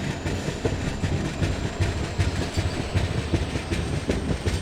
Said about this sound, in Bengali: তার সঙ্গে আমাদের ট্রেন তো ছুটছেই।